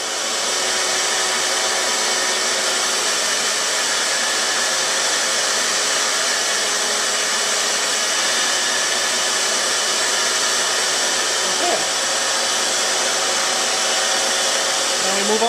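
A belt sander runs continuously on a piece of redheart wood for a bandsaw box, giving a loud, steady whirring drone close by with no talking over it.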